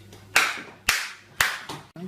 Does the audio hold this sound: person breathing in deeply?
no